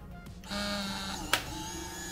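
A Polaroid Lab instant printer runs after its shutter button is pressed, giving a steady mechanical whir with a high whine, then a sharp click partway through, followed by a continued hum, close and clear with no talking.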